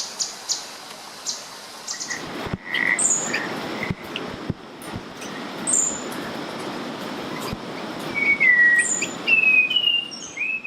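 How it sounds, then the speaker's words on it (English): A spot-winged thrush sings plaintive, clear whistled phrases in forest, rising above a dense background chorus of frogs and insects, with a few sharp clicks. "The plaintive songbird in the background is a spot-winged thrush, a beautiful songster in these forests."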